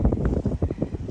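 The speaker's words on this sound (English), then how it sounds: "It's pretty windy." Gusty wind on an exposed ridge of the Appalachian Trail in Massachusetts, buffeting the microphone in loud, uneven rumbling bursts.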